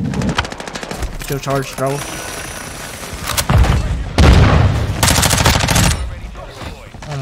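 MP5 submachine gun fire in Modern Warfare 2 sounds as rapid bursts with loud booms and explosions, close and dense, mixed with game effects while a player talks over it.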